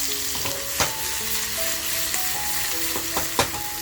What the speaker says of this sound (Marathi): लसूण आणि मिरची टेचली आहे बघा, ही अगोदर तेलात टाकते.